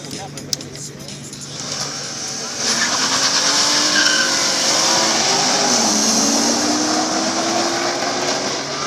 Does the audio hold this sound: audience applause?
no